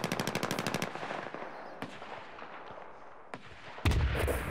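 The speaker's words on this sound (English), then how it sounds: "Just have a mound of machine guns and mortars over here." Video-game battle with rapid machine-gun bursts rattling close, then scattered heavier single shots and a booming mortar-like blast near the end.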